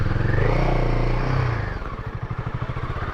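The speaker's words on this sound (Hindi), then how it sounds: "तो मैं यहाँ पे रोकने लग रहा हूँ बाइक को" A motorcycle on a ride to Pauri Garhwal slows and comes to a stop, engine noise easing off into a steady, pulsing idle close by.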